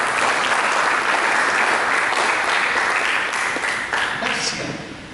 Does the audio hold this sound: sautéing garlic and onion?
no